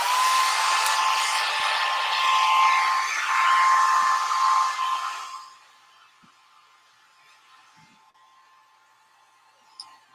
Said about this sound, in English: I'm going to turn the dryer on this one over here and put it on low